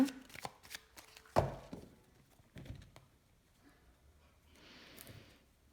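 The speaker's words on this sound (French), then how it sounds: "On va aller voir à la coupe déjà avec le petit Lenormand." A deck of petit Lenormand cards is shuffled and cut, with a flurry of close riffling clicks, a sharp slap, then softer rustles and card slides fading toward quiet.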